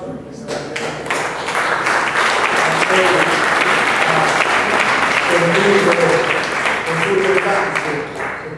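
Dense, sustained applause from an audience at a cultural debate, many hands clapping loudly and steadily for the whole stretch with no break.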